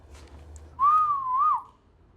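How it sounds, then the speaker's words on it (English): One person whistles a single sliding note, clear and close, lasting under a second with a slight upward flick at the end, in an otherwise quiet room. "Don't ever whistle."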